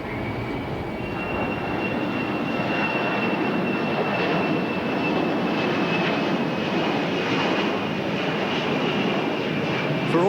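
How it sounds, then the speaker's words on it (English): A twin-turbofan amphibian aircraft with booster engines passes at an air show in Auckland, giving a steady, broad engine roar with a high whine that holds at constant loudness throughout. "Twin turbofans mounted high above the sea spray, plus booster engines slightly below that, make this a surprisingly agile,"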